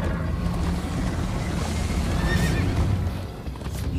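A horse whinnies over pounding hoofbeats during a frantic chase in Minecraft: Story Mode, set in a dense, loud game soundscape with a continuous rushing wash of noise and no speech.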